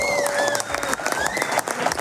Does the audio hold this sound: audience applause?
yes